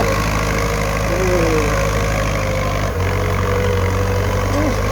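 Ford tractor engine idling steadily in a rice field, a constant low mechanical drone throughout with a brief dip near the middle, and someone talking over it.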